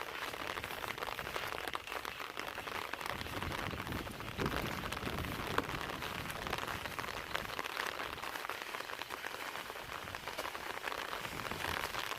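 Steady rain falling and pattering on surfaces, a dense continuous hiss of drops, fairly close, with no talking.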